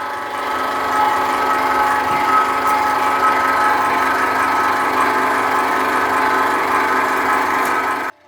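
A home coconut oil press machine runs steadily and fairly loud for the whole stretch, a constant motor whine and mechanical drone with no pauses, ending abruptly as it cuts off.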